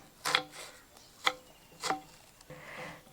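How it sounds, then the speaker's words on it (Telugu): A knife chops freshly harvested, slippery new onions on a board in three or four sharp, spaced strokes, close and fairly quiet, with no talking. "ఈ కొత్త ఉల్లిపాయలు ఘాటుగా ఉన్నాయండి అండ్ కొయ్యటానికి జారుతున్నాయి"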